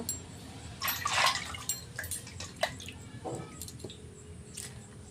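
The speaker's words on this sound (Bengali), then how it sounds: "তো এখন আমি হাতটা ধুয়ে নেব।" Hands are washed with water, giving close splashing, dripping and wet squishing sounds in irregular bursts at moderate volume, with no one speaking.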